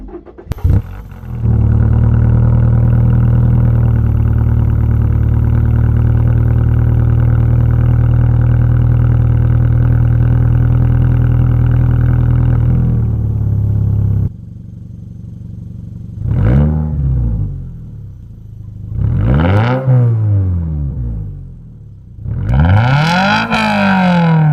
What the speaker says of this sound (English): RSE Type-D full titanium catback exhaust is the best choice for you for the perfect sound